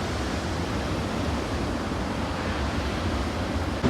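Huge ocean waves break and roar at Nazaré during a surf championship, a dense, steady wash of surf noise with no pauses.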